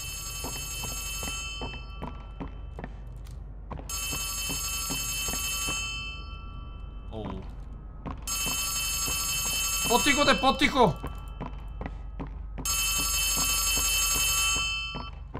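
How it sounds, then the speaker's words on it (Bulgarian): Old bell telephone ringing in a horror video game, loud, bright ring bursts of about two seconds, repeated with pauses between them, over a low hum and thumping footsteps, and someone speaks briefly between rings. "Чувам звънящ телефон."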